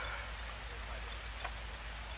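Steady rain falling on a pond at Khao Yai where a herd of wild elephants wallows in shallow water, a continuous soft hiss of drops on the surface with no voices.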